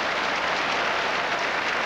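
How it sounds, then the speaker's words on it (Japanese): Crowd at a RINGS mixed martial arts match cheering for both fighters, a steady dense roar of voices and applause filling the whole stretch without a break. "両者に声援が飛んでいます"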